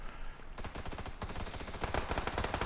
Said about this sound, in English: Gunfire ahead of us, so you know this is where it gets very dangerous now.